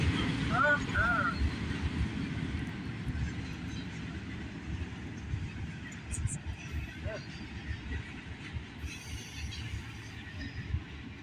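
A freight train hauling Amazon and intermodal cars rolls past in Troy, Ohio, a steady low rumble that holds for the whole stretch, mixed with gusty wind buffeting the microphone outdoors.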